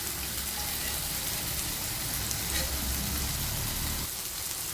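Chicken pieces cooking on a flat tawa, a steady close hiss of frying oil that fills the clip evenly without pause, rain-like in texture.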